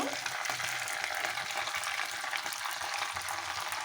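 Onions and green chilies frying in a hot oil tempering with fenugreek for a colocasia tamarind stew, giving a steady, close, continuous sizzle and crackle with no talking.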